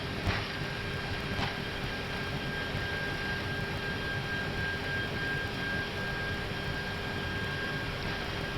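Airbus A319 jet engines spool up at takeoff thrust, a loud steady roar with a sustained whine heard from the cockpit, continuous and without talk.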